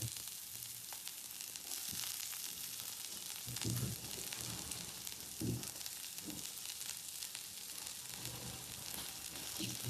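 Onion sautéing in hot oil in a pan with mustard seeds and cumin, a steady faint sizzle with a few soft stirring bumps, close and without voices.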